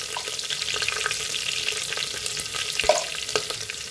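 Ginger garlic paste and turmeric fry in hot oil for a chicken curry, a loud, continuous close sizzle with light crackles and occasional scrapes of a spoon against the pan, no voices.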